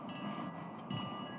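A train rolls past in a battle royale shooter match, a steady mid-level rumble with hissing noise that swells briefly near the start and again toward the end, heard alone without talk.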